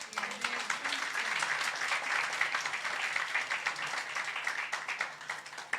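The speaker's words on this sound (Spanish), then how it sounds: "¿Cuánto le pueden dar una ofrenda de palmas al Señor?" A church congregation applauding during a service, steady, dense clapping from many hands lasting several seconds, fairly close, with faint voices mixed in.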